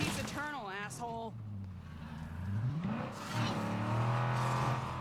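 Engine noise from a vehicle in the State of Decay 2 video game rumbles and revs steadily, building louder toward the end, while someone talks over it.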